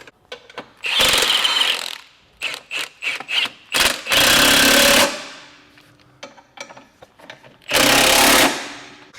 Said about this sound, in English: We can just drill it in here like that.